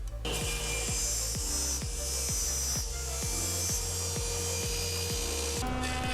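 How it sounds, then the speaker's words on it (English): A hand saw cuts through a cherry wood board in a steady rhythm of about a dozen rasping back-and-forth strokes, close and fairly quiet, with no voices. "I'm cutting my board at approximately 24 inches."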